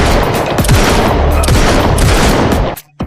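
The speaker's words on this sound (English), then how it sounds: "Before the boss could react, the cops turned and opened fire" Cops open fire in a standoff: a dense, loud burst of rapid gunfire rattles on for nearly three seconds, shots overlapping into a continuous volley before cutting off abruptly.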